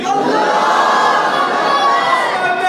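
A large crowd at a religious gathering answers with a loud, sustained collective chant of the Takbir slogan, many voices shouting together in unison throughout.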